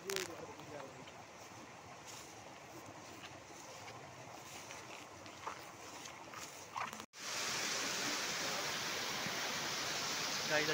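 A village river in Kokan flows nearby. A quieter stretch with faint voices gives way abruptly to a loud, steady, close rushing of water that fills the rest of the clip.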